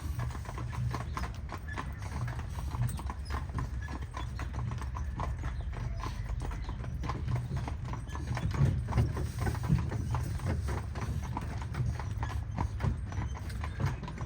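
Horse hooves clip-clop steadily on pavement as horses pull a Bavarian carriage, a continuous close rhythmic clatter with road and street ambience throughout.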